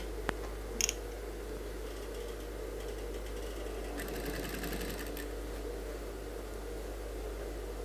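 A sewing machine stitching a suit runs in a steady, quiet, continuous whirr throughout, with a couple of brief clicks near the start.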